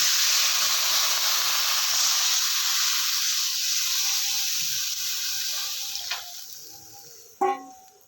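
Water poured into a hot pan of cooked raw mango sets off a loud, steady steaming hiss that slowly fades. Near the end come a couple of sharp clinks from the pan.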